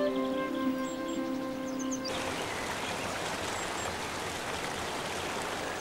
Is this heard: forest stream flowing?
yes